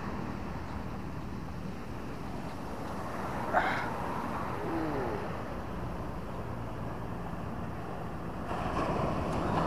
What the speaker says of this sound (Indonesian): Ombaknya.